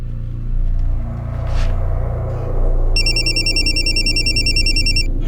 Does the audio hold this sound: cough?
no